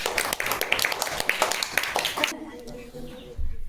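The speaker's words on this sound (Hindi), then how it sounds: "ताली हो जाए इनके लिए भी।" A classroom of ninth-grade students clapping for a classmate's correct answer, a burst of brisk, crowded applause that stops abruptly, followed by quiet room sound.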